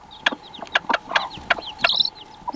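A chicken clucks in a quick, uneven series of short calls, close and clear, ending in a slightly longer, rising squawk, with no voices alongside.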